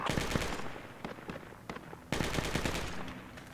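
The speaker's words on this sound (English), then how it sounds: "Taking fire." Rapid automatic gunfire and scattered single shots from a Rainbow Six Siege firefight, dense bursts rattling close by with brief gaps, then a loud renewed volley near the end.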